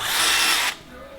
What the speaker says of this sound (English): Final rivet.